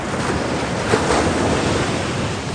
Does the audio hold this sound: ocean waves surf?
yes